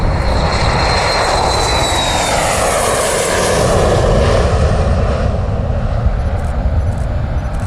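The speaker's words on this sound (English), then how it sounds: "It's Play Airlines Flight 703. This is their inaugural flight in the Washington Dulles." Loud roar of a Play Airlines passenger jet at Washington Dulles airport, a steady broadband engine rumble with a whining tone that sweeps down early, filling the whole stretch without any voices.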